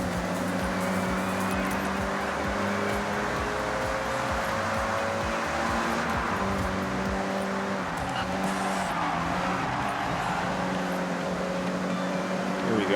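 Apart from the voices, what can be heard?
Mitsubishi EVO 8 racing a lap in video game Forza Horizon 6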